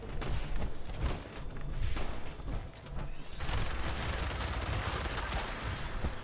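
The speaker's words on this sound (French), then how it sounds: "Coup de feu, coup de feu." Rapid bursts of gunfire in the video game Fallout 76 crackle repeatedly at a distance, several sharp shots at first, then a denser, sustained rattle of fire.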